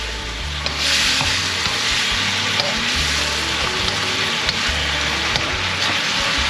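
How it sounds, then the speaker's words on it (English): Seal congee with pepper and roasted garlic cooking in a hot pot, a loud continuous sizzle with steady scraping and stirring strokes up close, no one talking. "Stir it up."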